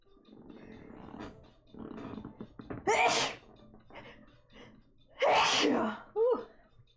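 Two loud, sharp sneezes break through quiet background talk, the second followed by a brief sniff or gasp.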